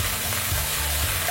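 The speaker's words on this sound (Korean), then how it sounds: "파를 먼저 넣어서 이렇게 볶아주셔야 돼요" Scallions and Vietnamese chili peppers stir-fried in a pan while making mala xiang guo: a loud, continuous hissing sizzle with no talking.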